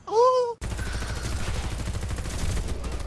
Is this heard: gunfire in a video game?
yes